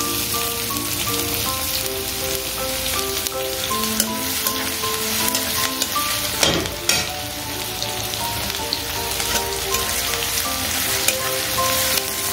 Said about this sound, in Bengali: এখানে আমি পেঁয়াজগুলোকে ভাজা করার পরে হালকা ভেজেছি